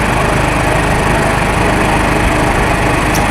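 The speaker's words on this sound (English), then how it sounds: "now what we're going to do is just mill it" A milling machine takes a cut in metal with a half-inch end mill, a loud, dense, continuous grinding roar with steady chattering texture, close and unbroken throughout.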